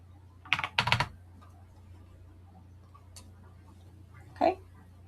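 Keys clatter on a computer keyboard in a quick cluster of taps near the start, then a lone tap and a final short burst, close but soft in a quiet room.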